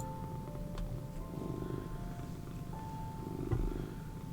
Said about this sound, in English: If you hear some purrs,